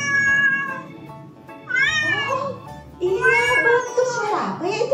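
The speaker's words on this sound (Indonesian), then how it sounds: "Suara kucing." Cat meowing several times in clear, drawn-out calls, fairly close and loud, separated by short pauses.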